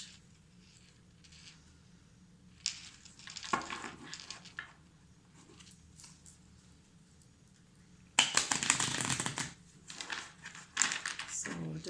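Crisp bursts of riffling and flicking cards, two main flurries separated by quieter pauses, close by with soft handling noise between.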